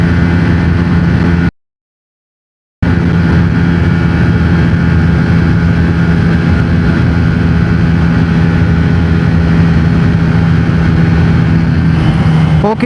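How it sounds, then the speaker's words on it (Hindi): A Bajaj Pulsar N160 motorcycle cruises in fifth gear at around 128 km/h, its engine a steady, loud drone mixed with rushing wind, broken once by a brief total dropout before resuming unchanged. "सो अभी बाइक जो है वो 5th गियर में 128 तक जा रही है।"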